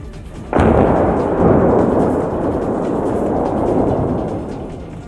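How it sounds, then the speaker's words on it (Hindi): An old bridge, about 80 years in use, is demolished with explosives: a sudden loud blast breaks in, then a sustained rumbling roar of collapsing structure and debris that slowly fades over several seconds. "विस्फोटक लगाकर एक ही झटके में इस पुल"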